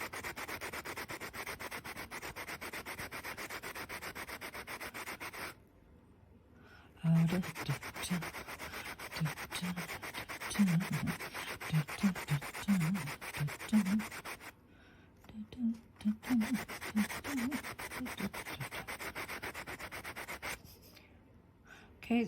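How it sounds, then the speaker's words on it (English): Steady scratchy rubbing of sandpaper on a small polymer clay ring, repeated strokes with brief pauses, close up and fairly quiet. "let's sand this plane just the same way."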